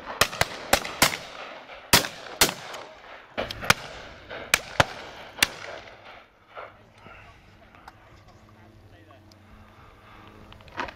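Shotgun blasts on a driven pheasant and partridge shoot, several sharp reports spaced irregularly across the first half, with people talking faintly in the background and quieter field sounds after.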